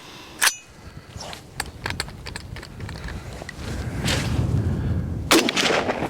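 Rifle shots from an AR-15 fitted with a Bear Creek 7.62x39 upper, fired outdoors: one sharp loud crack near the start and another near the end, with rustling and movement between them.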